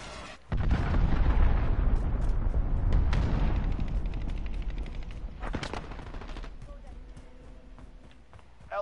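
Cruise missile strike in the Modern Warfare beta: a sudden heavy blast opens into a long, rumbling roar of explosions and crackling debris, loud and close, slowly fading as game voices talk.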